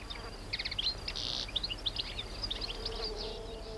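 A honeybee forages among flowers, sipping nectar, with a low, close buzz running throughout while birds chirp intermittently in the background.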